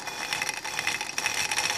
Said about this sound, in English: That other sound you hear is the motor.